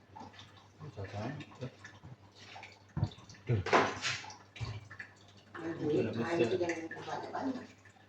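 Water is poured into a cooking pot while kuah lodeh, a Malay vegetable and coconut-milk curry, is being made, a rushing, splashing pour that swells and fades over several seconds.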